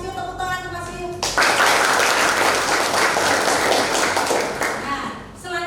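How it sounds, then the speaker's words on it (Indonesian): A classroom group breaks into lively applause after a brief spoken line, the clapping loud and sustained for several seconds before fading as a voice resumes. "Terima kasih Mas Rio, tepuk tangan untuk Mas Rio."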